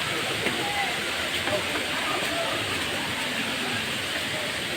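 Bulawan Falls, a waterfall near a hanging bridge, sends out a loud, steady rushing roar of falling water. The dense hiss holds without a break from start to finish.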